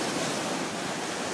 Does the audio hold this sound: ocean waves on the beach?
yes